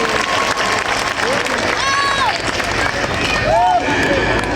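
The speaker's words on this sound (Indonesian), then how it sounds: "Tepuk tangan untuk Akim." An audience at an Islamic religious gathering breaks into applause and crowd noise, a dense, sustained clatter of clapping mixed with murmuring and a voice or two, fairly loud and close.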